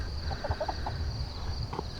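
A young hen clucks softly and repeatedly at close range over a steady background hum, with no talking.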